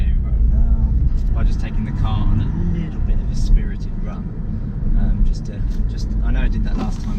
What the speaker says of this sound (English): I'm just going to finish the video right now by just taking the car on a little bit of a spirited run